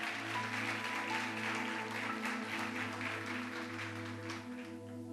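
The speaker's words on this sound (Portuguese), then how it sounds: "Aplauda mais forte." A church congregation applauds on cue from the preacher, a dense sustained clatter of many hands over low organ-like tones, steady throughout.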